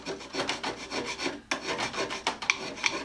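A copper scraper worked flat across metal, repeated close rasping strokes in an uneven rhythm with sharp scrape onsets, no voices.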